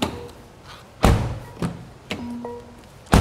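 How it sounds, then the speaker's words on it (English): A 2021 Mercedes-AMG E53 door is shut several times, each close a solid, dull thud with a short ring-off, spaced about a second apart with quiet between them. "let's check how the door closes"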